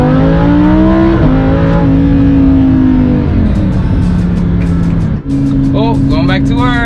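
Lamborghini engine droning loud and steady close by, its pitch shifting in a few steps and dipping briefly near the end, with people talking over it.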